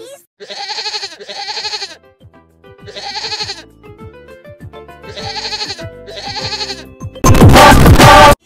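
A goat bleats repeatedly in separate cries of about a second each, loud and close, ending in a burst of harsh noise, from a cartoon parody of Peppa Pig.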